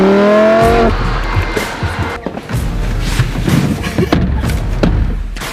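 A Lamborghini accelerates loudly and close by, its engine note rising then giving way to tire squeal, skidding and thumps while the car keeps roaring throughout.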